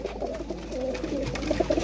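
Pigeons of a flying breed cooing at close range, a few soft throaty coos rising in short bursts, with no one talking.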